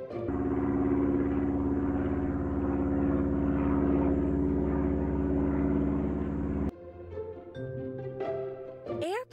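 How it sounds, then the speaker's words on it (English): An airplane engine drones steadily and loudly for most of the clip, then cuts off abruptly and a light musical melody takes over. "Airplane is a vehicle designed for air travel that has wings and one or more engines."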